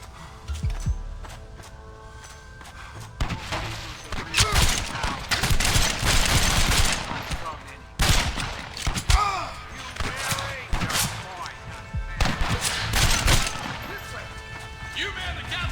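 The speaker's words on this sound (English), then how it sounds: "You man the Gatling gun, Marston!" Gatling gun fire in the Red Dead Redemption video game: rapid bursts of heavy gunfire and crashing impacts, loud and close, broken by brief pauses, with shouted voices mixed in.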